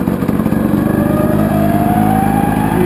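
Nearby and loud, a Tomos LX moped's small two-stroke engine runs on a stationary test, with a steady buzzing idle whose pitch gradually climbs as the throttle is opened slightly.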